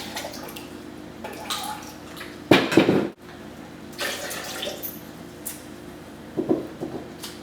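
Water pours into a blender for homemade almond milk in short bursts with splashy, gurgling sounds, a heavier pour in the middle and a brief one near the end, recorded close up.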